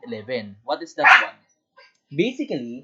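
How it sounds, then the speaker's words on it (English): A dog barks once, loud and close, in the middle of an online math class, while a teacher speaks before and after it. "so sorry for the dog"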